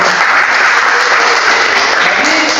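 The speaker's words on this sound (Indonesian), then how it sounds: "Berikan tepuk tangan untuk kelompok" Classroom applause for a student group in a mathematics teacher-training session, steady dense clapping from many hands filling the whole stretch with no talk over it.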